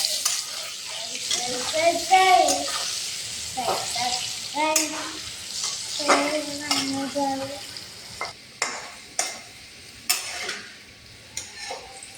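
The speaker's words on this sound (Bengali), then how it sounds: "তেল গরম হয়ে গেছে বন্ধুরা আলু দিয়ে দেবো" Potatoes sizzle in hot oil in a home kitchen, with a steady fry under stirring and a series of sharp clicks and taps of the utensil on the pan toward the end; a voice is briefly heard early on.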